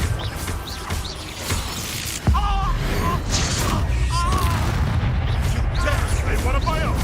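Repeated fiery spell blasts from Hogwarts Legacy combat, a loud deep boom near the start followed by dense crackling impacts and bursts, with a voice talking over the action.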